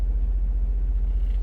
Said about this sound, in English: I'm going to let the truck finish warming up